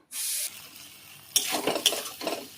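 Whole cumin seeds, onion, ginger and garlic hit hot oil in a wok with a sharp burst of sizzle, then a quieter simmering hiss broken by clinking and scraping stirs toward the end.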